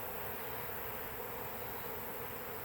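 Honey bees fanning among multiple swarms merging into one cluster, a steady, dense buzzing hum that holds evenly throughout at a low, close-up level with no voices.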